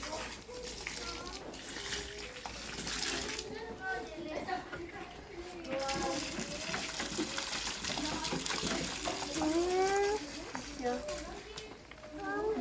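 Water pours and gushes steadily out of the emptied water tank of a Beko tumble dryer, a continuous splashing stream heard close by while people talk over it.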